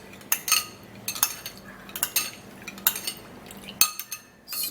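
A spoon stirs a skincare mixture containing organic honey in a small dish, producing repeated close clinks and scrapes in an uneven rhythm.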